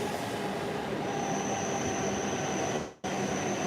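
A Hokuriku Shinkansen Kagayaki train pulls into the station with a steady heavy rumble and a thin high-pitched whine, loud and close. The sound cuts out briefly near the end, then resumes.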